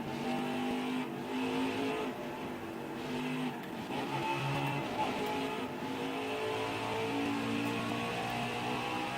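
A NASCAR Xfinity Series race car in NASCAR Heat 5 at the Road America road course drones and revs steadily as the throttle is worked through a turn, loud and continuous with slight pitch swells.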